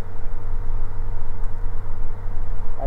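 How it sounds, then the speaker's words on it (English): A Eurofox light aircraft engine drones steadily from inside the cockpit, a loud, continuous low hum with a slightly pulsing rhythm and no voices. "Engine seems a bit smoother now."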